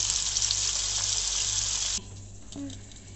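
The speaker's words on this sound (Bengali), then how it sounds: "পটল আমি ছিলে ভাজি করছি, দেখুন।" Peeled pointed gourd (potol) sizzles in hot oil with a loud, steady hiss that drops off abruptly partway through, leaving a quieter, softer crackle.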